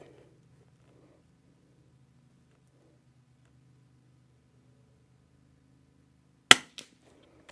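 A single sharp, suppressed crack from a CZ455 .22 rifle fitted with a Jim Tech suppressor rings out after several seconds of near silence, followed by a couple of faint ticks.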